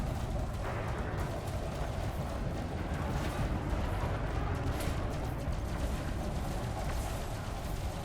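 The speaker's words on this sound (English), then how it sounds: "those multi-cannons do some work on hulls" Dense, continuous rumbling multi-cannon fire and explosive bursts from a spaceship battle in Elite Dangerous, heavy and unbroken, with a low roaring background throughout.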